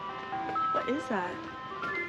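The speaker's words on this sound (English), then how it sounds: "Sure sounds like an ice cream truck to me." Tinkling electronic jingle from an ice cream truck passing outside an open garage, a bright looping melody with sliding chirpy notes, fairly faint and distant, alone without talk.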